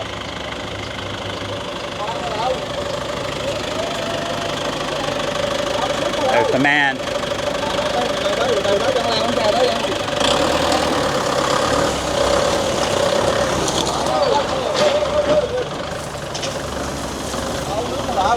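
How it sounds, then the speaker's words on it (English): A truck idles at a residential home construction site in Vietnam while dropping off material, its engine rumbling and knocking steadily close by throughout, with someone talking over it. "Here comes a truck."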